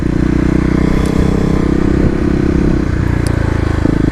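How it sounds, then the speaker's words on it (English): A Kawasaki KLX250 motorcycle engine held at high revs during a burnout in a parking lot, a loud, continuous buzzing roar with the rear wheel spinning. "looks like I'm not getting traction, and I'm just spinning the wheel"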